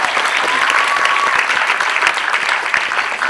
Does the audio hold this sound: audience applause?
yes